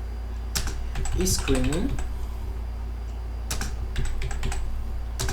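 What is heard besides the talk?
typing code on a computer keyboard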